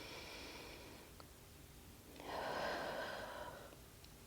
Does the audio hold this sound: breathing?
yes